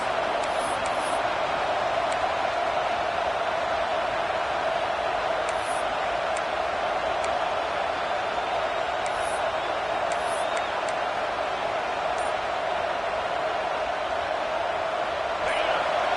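A college football stadium crowd at Colorado versus Penn State roars in the fourth quarter, a dense and steady wall of noise that holds loud for the whole stretch, with faint higher whoops poking through.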